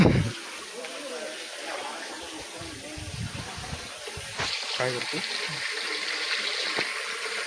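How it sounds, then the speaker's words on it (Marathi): Water gushes and splashes as a container fills at a wedding household, with a steady running flow underneath and a person speaking briefly over it. "पाणी भरतोय."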